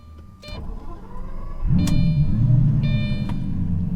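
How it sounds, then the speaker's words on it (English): A 2004 Lamborghini Gallardo starting up: a short starter whine, then the engine catches with a deep rising rumble that settles into a loud, close idle. "God, I love the sound of a Gallardo starting up."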